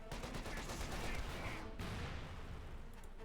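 Dense gunfire and small-arms bursts from a Company of Heroes 2 battle, Wehrmacht against US Forces, rattle continuously at steady loudness with a brief dip midway, mixed under game noise.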